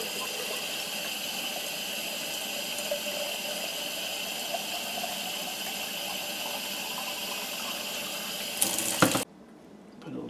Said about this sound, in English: we're going to add more water and shake it up. I want cold water.